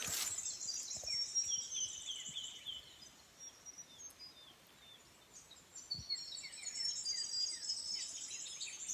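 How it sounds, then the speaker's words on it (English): Small birds chirp and trill outdoors at a roadside camp in the early morning, with several faint, high, repeated calls overlapping throughout against a quiet background. "Listen to the birds."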